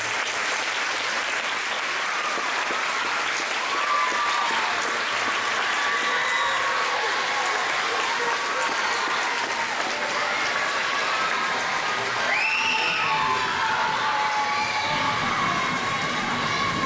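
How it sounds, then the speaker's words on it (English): An audience at a spring church concert applauds and cheers for the directors, with continuous clapping mixed with whoops and a few higher shouts throughout. "Let's give our directors a round of applause."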